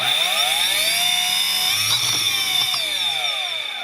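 A DC motor spins at its high speed setting with a steady, close whine and layered harmonic hum that briefly wavers midway, otherwise continuous throughout.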